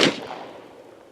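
A single sharp gunshot cracks at an outdoor shooting range, close and loud, with a short fading tail afterward.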